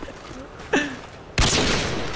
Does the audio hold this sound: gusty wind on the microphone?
no